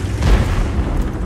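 A tank gun fires in a video game, and a heavy low boom rumbles for about a second with no other sounds.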